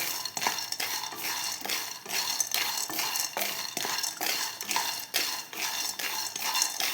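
Roasted peanuts are stirred and reheated in a pan, giving rhythmic scraping and clinking strokes about twice a second, close and fairly quiet, with no talking.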